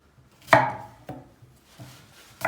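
A few sharp knife chops through vegetables on a cutting board, spaced irregularly, the first loudest, with quiet gaps between strokes.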